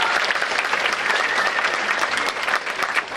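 Audience applause at a 7th grade school winter concert, a dense, steady wash of clapping from a full room, loud and continuous for a few seconds.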